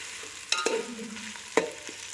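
Masala rice made with pavta beans and leftover bhakri pieces is stir-fried in a pan, with a steady sizzle broken by two sharp scraping clatters from the utensil, close and fairly loud.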